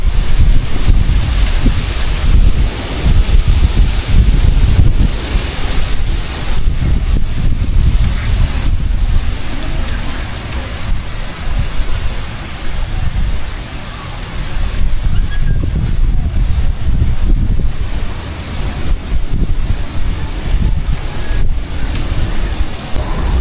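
Strong gusty typhoon wind buffets the microphone in rough, surging waves that swell and ease, with a low rumbling roar throughout.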